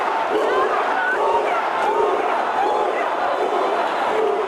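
A crowd at a singing competition cheers and chants continuously, a dense roar of many voices at steady loudness with shouted calls rising through it.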